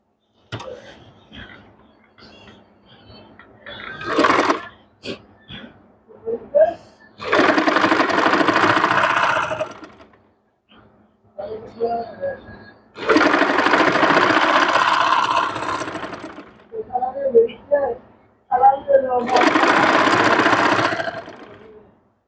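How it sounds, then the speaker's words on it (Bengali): A sewing machine stitches elastic onto a puff sleeve, running in three long loud bursts with quiet pauses and soft talking between them. "এইভাবে বসিয়ে এখান দিয়ে সেলাই দিয়ে নিবো"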